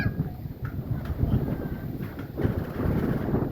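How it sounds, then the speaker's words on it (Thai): Strong dry wind blowing outdoors over a vegetable garden, a steady low rumbling buffet against the microphone with gusts swelling and easing, no voices. "ลมแห้ง ลมแห้งหลายโอ้"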